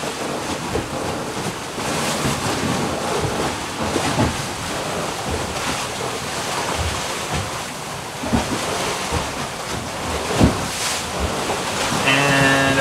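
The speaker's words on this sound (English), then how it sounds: "we've gotten out of the protection of the island, and the swell is back." Ocean swell washes around a sailboat in open water off Eleuthera, a loud, steady rush of waves and wind noise that stays constant throughout, with a few brief knocks and no talking.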